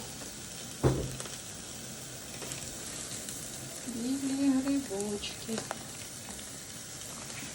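Borscht vegetable sauté sizzling softly in a pan with garlic and chili, a steady low frying hiss throughout with a brief clatter near the start, while someone talks over it.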